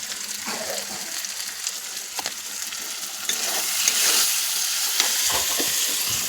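Spices, among them chili powder, turmeric and salt, sizzle steadily in a hot pan while being stirred, a loud continuous hiss broken by scraping strokes, no talking.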